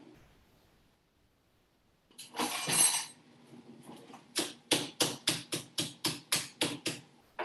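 A candy cane is crunched up for a dessert topping in a kitchen, giving a brief crackling burst and then a quick series of about ten sharp, evenly spaced snapping crunches, close and clear with no talking.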